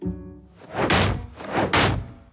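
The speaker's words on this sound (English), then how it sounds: "the same door dings" Two or three heavy, hollow thunks follow one another in quick succession, as a car door swings open and knocks into the panel of another car, loud and close with no talking.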